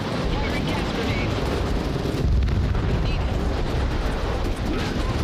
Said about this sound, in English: Firing gas grenades.